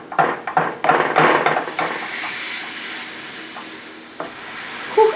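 Ground beef sizzles in a pan while a utensil breaks the meat apart, with several bursts of scraping and clatter early on that ease into a softer, steady frying hiss.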